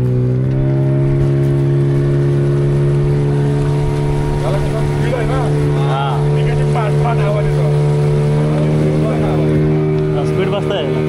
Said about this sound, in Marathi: किलोस्कर इंजिन होते ना, गेल्या वर्षी किलोस्कर होते, ह्या वर्षी नवीन आणले तर म्हटलं तर काय तरी बोट आता सुरू झाले